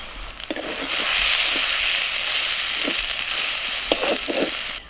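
Spice masala of ground coriander, cumin, chili and turmeric with ginger and garlic frying in a pan for palak mutton, a soft continuous sizzle with a few sharp crackles and stirring taps.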